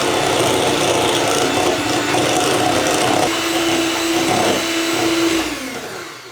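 Electric mixer running at top speed through a cocoa chocolate cake batter, a loud steady whirring buzz with a rough grinding edge that holds for several seconds before tailing off.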